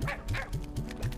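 Slime creatures in the video game Slime Rancher 2 give five short, dog-like yips and woofs in a quick steady rhythm, close and clear with no talking over them.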